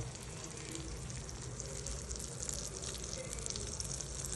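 Flour-coated fish sizzles loudly in a hot pan for lemon butter fish, a dense, steady crackling hiss with no pauses.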